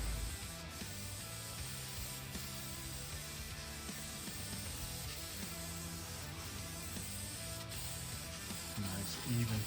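Red wrinkle paint is sprayed onto engine valve covers from an aerosol can, giving a faint steady hiss with light mechanical rattling throughout, quiet and continuous.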